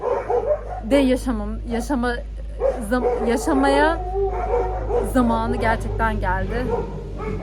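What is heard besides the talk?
dogs barking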